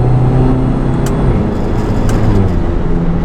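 A Mk7 Volkswagen GTI fitted with a GFB DV+ diverter valve pulls hard in fourth gear, its loud, steady engine and road roar droning continuously from inside the cabin with no talking.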